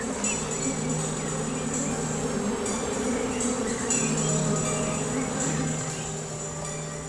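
A honey bee colony buzzing inside a hive, a dense, steady drone of many wings with a sustained tonal hum, loud and continuous throughout.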